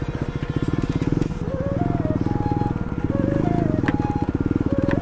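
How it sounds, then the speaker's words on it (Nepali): Motorbike ridden over a rocky road, a close rapid engine throb with rattling from the rough ground, while a person talks over it. "अब बाइक त पुरै अनि फालिदिन्छ ढुङ्गाले।"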